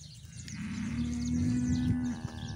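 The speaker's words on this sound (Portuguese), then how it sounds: "Essas vacas comendo silo aí, ó." Cattle feed on silage on a farm while a cow lets out a low drawn-out moo, close and fairly quiet, over faint farmyard background noise.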